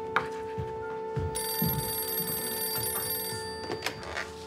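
A telephone rings with a steady electronic tone in a room, sounding repeatedly under faint background shuffling and movement, with no speech.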